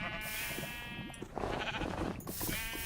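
Several sheep bleat in a Minecraft-style block game, wavering calls overlapping one after another, fairly close with a soft background hum.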